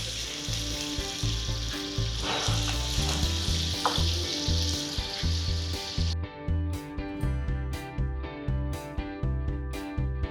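Ginger garlic paste sizzles and fries in hot oil for a Nellore-style fish curry, a steady loud crackle with rhythmic low thumps beneath; midway the bright hiss drops away, leaving softer frying and scattered sharp clicks.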